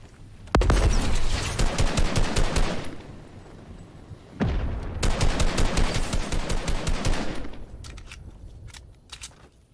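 Rapid automatic gunfire from a shooter video game, two long loud bursts of dense shots with a short gap between them, then a few scattered single shots trailing off.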